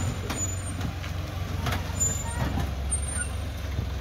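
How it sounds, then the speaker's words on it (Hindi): A truck or bus pulls away after unloading, its engine rumbling steadily with a brief air-brake hiss, fairly close and loud, while voices talk faintly in the background. "गाड़ी चलला"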